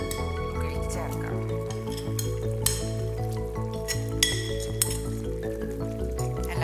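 A spoon stirs fried garlic and spice masala into a Kerala-style red chilli fish curry in a pan, with repeated sharp metallic clinks against the pan over a soft ongoing sizzle.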